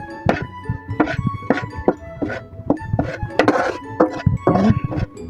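Flour being stirred into dough in a bowl in a cookery lab, with repeated clinking and knocking of a utensil against the bowl in an uneven rhythm.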